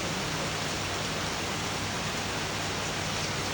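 Heavy rain falling in a continuous, uniform rush, a close, even hiss with no breaks or distinct drops and no one speaking.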